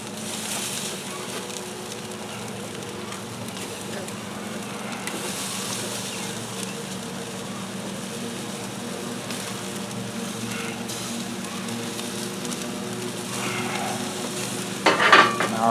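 Pork chops sizzle and crackle on an outdoor grill as they are shifted around, a steady soft frying hiss lasting the whole stretch with a few louder clatters near the end.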